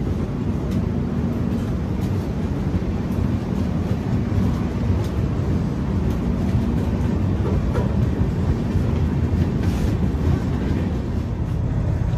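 The Howrah Barbil Jan Shatabdi Express running between Jhargram and Ghatshila, a steady loud rumble of wheels on track with wind rush, heard from inside a carriage without talk.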